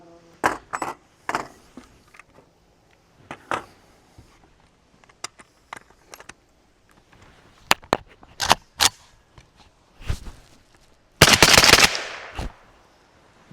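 A suppressed Meridian Defense Volk-S rifle in 7.62x39 with a Silencerco suppressor fires in the woods, a series of sharp clipped reports in quick bursts and spaced singles, with a denser hissing burst near the end.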